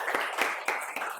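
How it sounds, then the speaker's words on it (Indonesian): A seminar audience claps for a presenting group in a classroom, a short burst of several scattered, fairly close hand claps in uneven rhythm lasting just over a second. "Silakan beri aplaus teman-teman."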